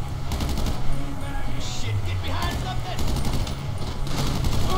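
Shotgun and automatic gunfire from an online GTA V contact mission crackles steadily in a dense, busy mix, with repeated blasts layered over continuous game noise and a low rumble.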